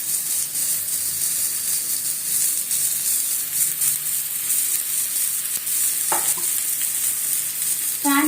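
Poha thalipeeth frying in oil on a hot tava over high heat, a steady close sizzle running throughout with a sharper burst of crackling near the end as more oil hits the griddle.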